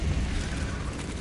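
Confringo blasting spell going off in the video game Hogwarts Legacy, a brief dense burst of explosive roar filling the sound at once with no voices over it.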